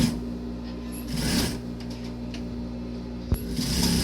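Sewing machine stitching the folded edge of a school-uniform skirt waistband to the selvage, a steady mechanical whir with gear-like ticking and a sharp click near the end, fairly close and without talk.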